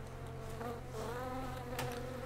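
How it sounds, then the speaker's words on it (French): A fly buzzes close by in the video game Sniper Ghost Warrior 2, a steady droning hum over a low background game ambience, with no talking. "C'est quoi cette mouche encore là?"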